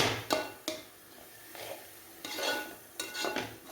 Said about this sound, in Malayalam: ഉപ്പും ചേർത്ത് ഇളക്കി കൊടുക്കാം ഇളക്കി കാബേജിൽ എണ്ണയൊക്കെ ഒന്ന് പിടിക്കും പറ്റട്ടെ നന്നായിട്ടൊന്ന് ഇളക്കി കൊടുക്കാം